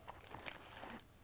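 Small, close-up crunching as a pet chews crunchy crickets, with a few quick crackly bites over a quiet background.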